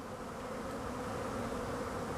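Healthy honeybees hum at the hive in midwinter, a dense, even buzz close up and continuous, with no voices.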